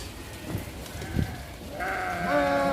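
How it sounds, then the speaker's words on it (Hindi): Sheep bleat in a short run: two brief calls early, then a longer, louder, wavering bleat that carries on to the end, heard fairly close against a quiet farm background. "आपने ज़िंदगी में ऐसी भेड़ें नहीं देखी होंगी, बहुत ही क्यूट हैं"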